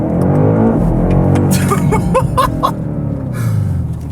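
G90-generation BMW M5 family sedan fitted with an Akrapovič exhaust pulls away hard, a loud steady engine roar rising with harmonic sweeps, with brief laughter from the occupants over the top.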